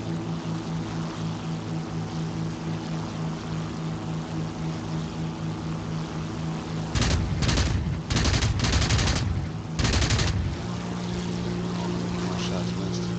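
Aircraft machine-gun fire from a fighter plane in War Thunder comes as several rapid bursts over a steady engine drone, loud and close in the mix.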